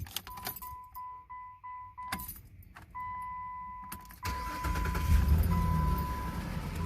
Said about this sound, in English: We're gonna start the car up, turn the vehicle on.